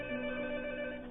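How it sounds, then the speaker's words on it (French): A telephone rings on another line, heard down a phone connection as a thin, steady electronic tone held for about a second. "malheureusement, c'est le téléphone sur une autre ligne"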